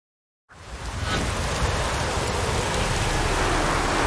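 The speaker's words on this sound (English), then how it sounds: "Oh, raining again." Steady rain in The Witcher 3: Wild Hunt starts abruptly after a brief silence and settles into a dense, continuous hiss of rainfall, fairly loud and even, with no voices.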